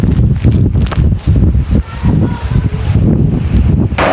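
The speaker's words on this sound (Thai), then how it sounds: "ทั้งลมทั้งฝนบาดนี่ลึกนี่" Strong gusting wind and rain roar and buffet the microphone continuously in a storm, with a dense rushing noise.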